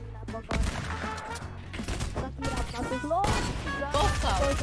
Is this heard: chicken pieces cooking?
no